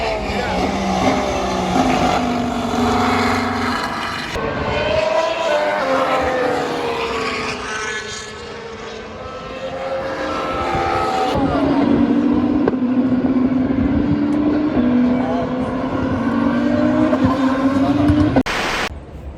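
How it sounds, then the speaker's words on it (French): Formula 1 cars at the Spanish Grand Prix scream past in loud, high-pitched engine sweeps that rise and fall with each passing car, heard repeatedly over a constant trackside roar. "tu vois très bien les voitures passer"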